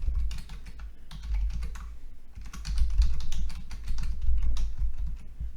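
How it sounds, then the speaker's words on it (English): Loud computer keyboard typing, dense rapid clatter of keystrokes in two bursts with a brief pause between, close and prominent with no talking. "And your keyboard, this thing is so loud."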